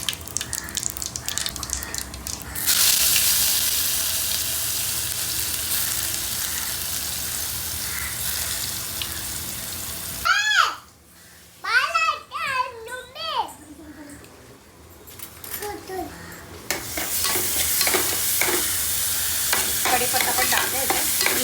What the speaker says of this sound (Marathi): आता तेल टाकलं एक माप, त्यात जिरा टाकलं